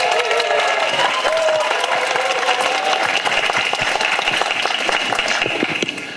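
A university audience of students in Suwon applauding former party leader Moon Jae-in, loud, sustained dense clapping from a large crowd that holds steady and then starts to fade at the end.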